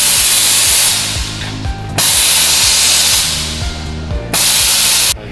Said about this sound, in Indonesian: Proofer blowing tray ini untuk yang tes semprotan angin yang di atas.